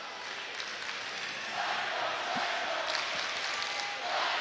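The Manchester Central crowd cheers at a boys' high school hockey game against Londonderry, a steady wash of arena noise that swells slightly partway through.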